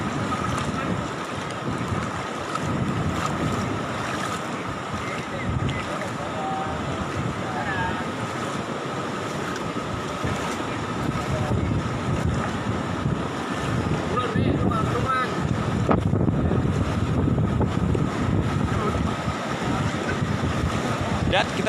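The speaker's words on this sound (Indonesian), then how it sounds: "Derasnya ombak yang memasuki ke area, bambu-bambu yang hanyut terbawa oleh deburan ombak yang ada di tepi pantai" Heavy waves surge across a beach at Tanjung Pakis, washing drifting bamboo inland, with steady roaring surf and strong wind buffeting the microphone throughout.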